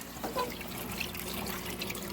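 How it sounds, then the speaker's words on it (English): Water runs and trickles steadily from an aquarium filter in an angelfish tank, a close, continuous splashing wash with small bubbling drips on top. "This filter's going pretty good."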